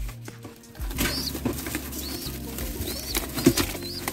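Rescued pigeons shuffle and flap inside a box, with bursts of wing beats, scraping and rustling in uneven bunches at close range, alongside a few soft high chirps and no talking.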